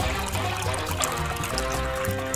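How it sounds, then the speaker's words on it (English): Water poured steadily into a large bowl, a continuous close trickle and splash with no break and no talking. "When you're done filling your bowl with water"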